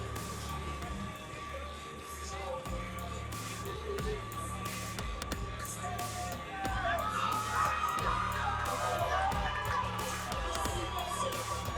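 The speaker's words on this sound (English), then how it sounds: "Crowd is filled in nicely on this Friday night." An arena crowd murmurs and calls out at a Friday night fight, a steady diffuse hubbub from the stands that swells a little louder partway through, with no clear voices up close.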